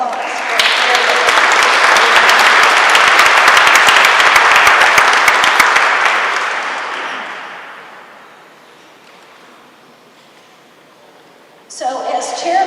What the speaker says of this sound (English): So let's have a round of applause for Mayor.